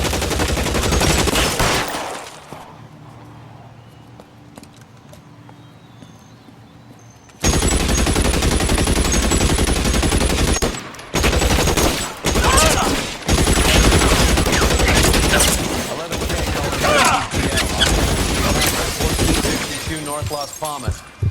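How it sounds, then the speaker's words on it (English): Heavy gunfire in the video game L.A. Noire, with dense rapid bursts and sustained volleys, loud and close, broken by a quieter gap with faint background sound before the shooting resumes in choppy bursts. "Shots fired and officers need help at 1452 North Las Palmas"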